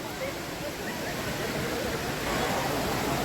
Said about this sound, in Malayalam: ഇത് വെള്ളം നല്ലോണം ഒഴുകുന്നുണ്ട് കേട്ടോ